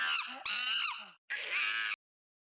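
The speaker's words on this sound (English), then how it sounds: "Monkey chatters." A monkey chatters in two loud, close bursts of shrill, wavering squeals and grunts, with a short gap between them and no talking.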